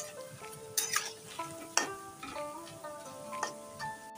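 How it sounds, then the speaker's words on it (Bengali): Eggplant pakoras frying in a kadai for chilli eggplant, with a soft sizzle under intermittent sharp scrapes and taps as they are stirred and turned. "দেখো কত সুন্দরভাবে ভাজাটা হচ্ছে"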